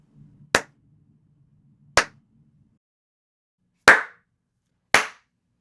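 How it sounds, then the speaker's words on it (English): Four sharp, isolated hand claps ring out one at a time in a quiet room, with acoustic panels up to test the reverb. Each snaps loud and close, then decays quickly into near silence. "Now I'm going to do the clap test like I did before the panels went up."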